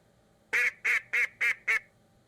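Five loud, evenly spaced duck quacks ring out in quick succession, nasal and close, with near silence between them.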